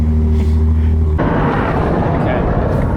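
A Ferrari sports car engine fires up abruptly and settles into a loud, rumbling roar that fills the space.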